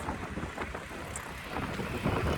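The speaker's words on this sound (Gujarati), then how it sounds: "ચાલો પવન કેટલો છે" Strong wind buffets the microphone on a bridge over the Tapi river in Surat above high water, a steady roaring rumble with gusts swelling louder toward the end.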